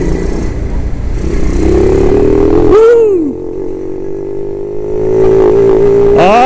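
A Jincheng M50 monkey bike engine revs steadily while riding, a loud buzzing drone that climbs in pitch, dips briefly at a gear change, then climbs again, with wind noise and no talking.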